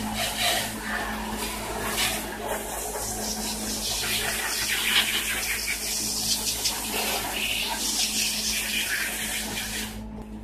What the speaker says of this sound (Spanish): Ahora voy a echarle agua.